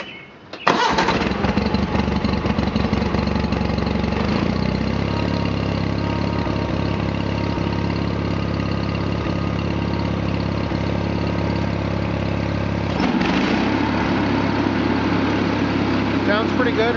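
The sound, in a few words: John Deere 318 lawn tractor engine starting and idling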